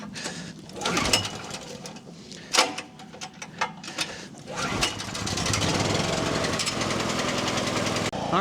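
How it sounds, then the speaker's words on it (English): A gas generator engine being readied for a winter storm cranks with a few sputtering bursts, then catches and settles into a steady, loud running drone, with birds cooing in the background. "All right, the generator's running."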